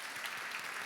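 Brief, even applause from an audience at a Re-fashion event, a soft hiss of many hands clapping heard at a distance.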